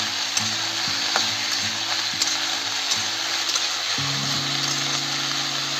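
Broccoli, potato and peas fry in a pan with a constant close sizzle, punctuated by repeated scraping and clinking of a utensil being stirred and lifting pieces out, with no talking.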